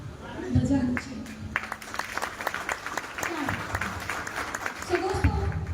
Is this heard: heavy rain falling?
no